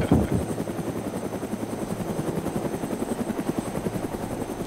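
Helicopter in the video game DayZ, its rotor chopping loudly and continuously in a steady rapid rhythm at close range, with no speech over it.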